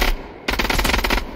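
Rapid automatic weapon fire in a first-person video game, a burst of loud, closely spaced shots after a brief quieter moment, with no talking.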